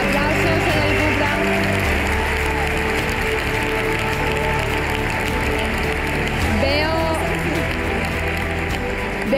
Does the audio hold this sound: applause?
yes